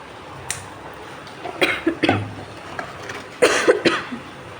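A person who is unwell coughs several times in short bursts, close and fairly loud, with brief quiet gaps between the coughs.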